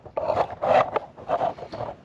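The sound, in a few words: removing MacBook Air screws with T3 screwdriver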